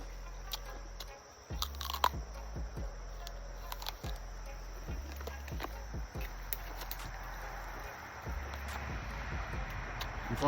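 Close, crisp crunching bites of fresh, sweet fruit, chewed in a slow irregular rhythm, with faint insects chirping in the background.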